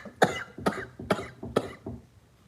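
A man recovering at home from heart surgery coughs four times in a strained, spaced sequence, then a weaker fifth, close and raspy with no talk.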